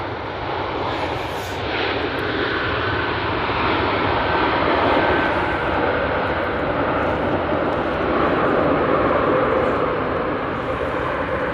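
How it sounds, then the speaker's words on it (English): A Boeing airliner lands at Manchester Airport, a loud broad roar of engines and rushing air sustained steadily throughout, close and without talk. "It's a firm but decent landing."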